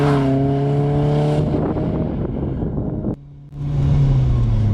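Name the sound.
BMW E30 M3 driving on track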